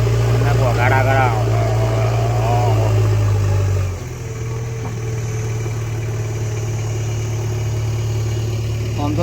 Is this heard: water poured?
no